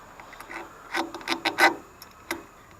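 Plastic air conditioner blower module being pushed back into its housing, giving a handful of short scraping clicks and rasps clustered close together, fairly quiet, with no talking.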